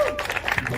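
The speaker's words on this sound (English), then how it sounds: "let's give them a round of applause!" An audience at a CityJS JavaScript meetup in London claps briefly, a loose patter of hands under a raised voice.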